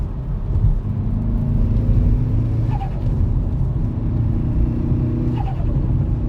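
A Hyundai Veloster N engine idles with a deep steady rumble, then rises briefly in a short rev and settles, repeated twice, close by.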